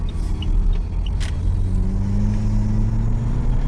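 A SAAB V6 car engine revs, a low steady rumble with a rising pitch that holds close and loud, with no talking over it.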